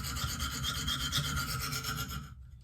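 Steady back-and-forth rasping of a Benchmade Steep Country blade drawn across a stone on a KME guided sharpener, continuous close strokes for over two seconds that stop abruptly, with no talking.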